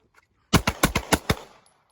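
Rapid pistol shots ring out during a concealed carry shooting class, six sharp loud reports fired in quick succession with no talking.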